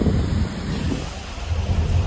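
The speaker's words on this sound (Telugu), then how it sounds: "వర్షం చూడండి ఆగకుండా కొడుతూనే ఉంది వర్షం." Heavy, unrelenting rain roars over flooded paddy fields with a deep, rumbling thunder-like low end, loud and continuous.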